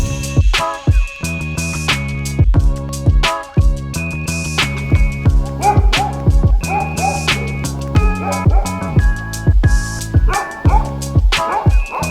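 Repeated short barks and yips from dogs ring out loudly in quick, uneven bursts, with no talking, over a steady tonal background.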